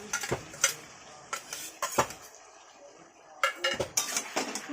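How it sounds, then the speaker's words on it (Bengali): Utensil scraping and clinking against a cooking pan as garlic, ginger and onions are stirred, a series of sharp metallic knocks in two bursts separated by a quieter pause, close and fairly loud with no talk. "একটু নাড়া দিই"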